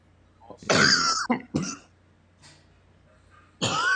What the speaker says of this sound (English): Excuse me. Let me clear my throat.